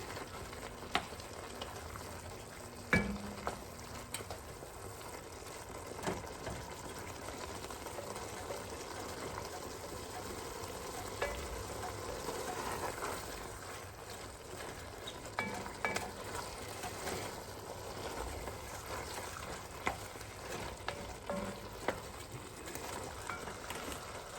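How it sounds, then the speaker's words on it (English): Ground beef and Italian sausage pasta sauce being stirred in a pot, a low continuous sizzle and wet churning with scattered scrapes and knocks of the spoon, all fairly faint. "Get that all stirred in."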